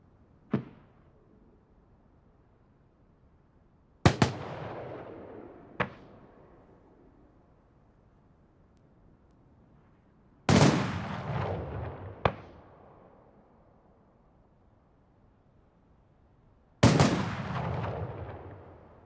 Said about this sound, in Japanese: 花火動画図鑑。 文字花火 W。